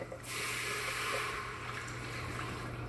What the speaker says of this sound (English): So I'm just pouring the broth in.